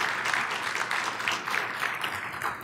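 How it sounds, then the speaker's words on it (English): At a surgical consensus conference on acute diverticulitis, a room of attendees applauds the organizing team, with a brief, steady patter of many hands clapping. "please, a round of applause to the team that really brought this all together"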